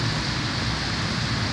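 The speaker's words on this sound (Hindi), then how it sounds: "इतनी ज़्यादा तूफानी बारिश हुई है" Heavy stormy rain in Faisalabad, a dense continuous roar of downpour, loud and steady with no pauses, alone without talk.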